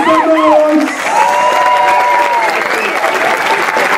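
A large audience at a salsa dance congress in Antwerp applauds and cheers loudly for the dance performers, with sustained clapping, whistles and shouts close by throughout.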